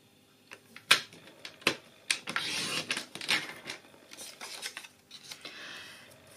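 Scissors snip paper pieces for a small craft box in a string of sharp, close cuts, spaced irregularly, with a little paper rustling between them and no talking.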